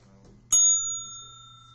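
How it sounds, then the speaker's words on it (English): A bell is rung once in a physics classroom, a sharp bright strike whose tone rings on and slowly fades over a low steady room hum, with faint murmuring just before it. "Don't make me ring the bell again."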